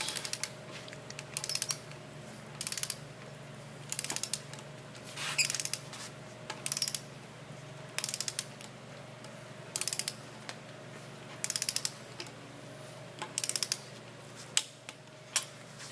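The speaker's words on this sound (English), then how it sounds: "So we're going to tighten and torque it until that dome washer flattens." A socket wrench ratchets a nut down on a threaded anchor rod against a dome washer, its close, crisp clicking coming in short, evenly spaced bursts of a second or so, separated by brief pauses, over a faint steady hum.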